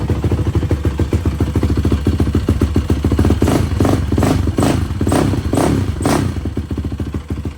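A Yamaha YFZ450 quad with an aftermarket exhaust idles close by with a rapid, loud, thumping pulse, then revs up in a series of sharp blips before settling back, with no talking over it.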